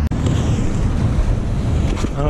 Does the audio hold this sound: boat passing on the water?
yes